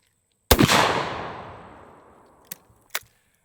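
A single unsuppressed 10-gauge shotgun fires a 3.5-inch double-aught buckshot load, a sharp, very loud close blast with a long decaying roar, followed by two brief clicks of the action.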